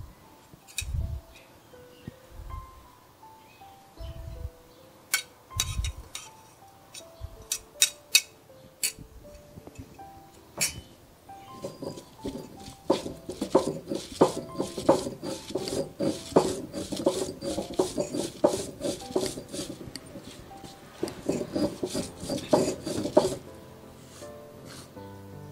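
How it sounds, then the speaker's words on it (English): Coconut and cumin ground into a paste on a traditional ammi grinding stone for Onam pumpkin erisheri: steady rasping, rubbing strokes of stone on stone, with occasional clinks and soft background music, continuous and close. "I'm going to use my grinding stone, my ammi, to grind this paste"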